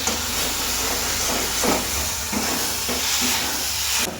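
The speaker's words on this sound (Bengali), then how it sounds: "ফুলকপি আর আলুটা দিলাম, এগুলো সেদ্ধ হতে একটু সময় লাগবে।" Cauliflower and potatoes cook in a pan with a constant close hissing sizzle, like steam, plus a few soft stirring scrapes recurring at intervals.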